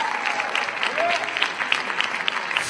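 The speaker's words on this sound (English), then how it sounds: "I want to give another round of applause to Hamilton Garrett Youth Choir." An audience claps in a sustained round of applause for a youth choir at an MLK Day celebration, steady and fairly close, with a faint voice briefly audible beneath.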